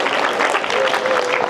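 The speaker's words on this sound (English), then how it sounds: "Give a round of applause" Applause from a high school audience at Howard High School, a dense steady wash of clapping that fills the whole moment without a break.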